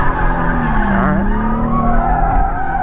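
A car with a welded differential drifts at night, its tires skidding and squealing loudly and continuously over an engine roar, with the pitch sweeping down and back up as it transitions.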